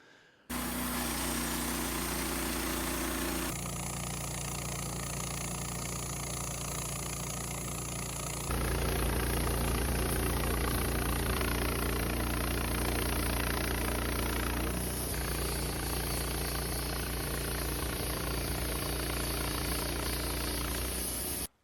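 A Wood-Mizer LT15 sawmill cutting a log runs as a loud, steady engine drone with a constant mechanical hum. Its tone shifts and swells partway through as the cut continues, and no one speaks.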